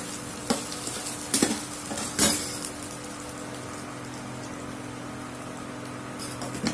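Raw banana pieces are stir-fried in a pan with mustard seeds, curry leaves and garlic. A steady sizzle runs under several sharp scraping knocks of stirring near the start, with no voices.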